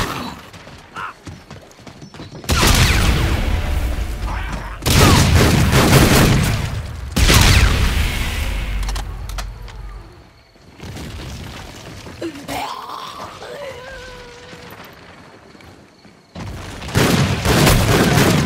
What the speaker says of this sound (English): Grenades! Pyrotechnic show coming up!